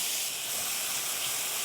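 Diced shallots sizzling in hot, bubbling melted butter in a pan, a steady bright close frying hiss with no pauses.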